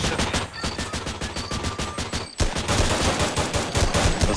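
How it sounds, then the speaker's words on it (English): AR-10 rifle fire in the video game They Hunger rattles out in rapid, loud continuous bursts, a dense fusillade of shots with a brief break partway through before the firing resumes. "Oh, it's the AR-10 or whatever this thing is."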